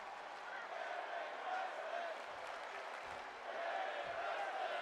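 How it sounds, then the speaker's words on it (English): Steady crowd roar and cheering from a wrestling match in the video game WWE 2K22, a continuous dense wash of noise that swells slightly in places, with no clear talk over it. "And the crowd's loving this one here as Valkyrie ascends to the top again."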